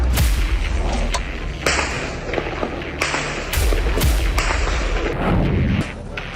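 Repeated sharp gunshots crack out at irregular intervals over a loud, rumbling background during West Bank protests, some shots close and others echoing farther off.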